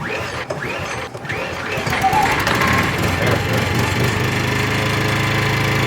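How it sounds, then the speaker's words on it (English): A portable generator cranks and catches, then settles into a steady, loud engine drone that runs continuously, with a person talking briefly near the start. "I haven't started my generator in quite a while. Let's start this up."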